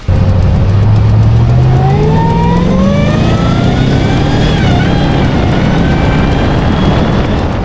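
A supercharged VE SS with a DART427 engine runs loud and close, its pitch climbing steadily as it revs up and holds a high, sustained roar.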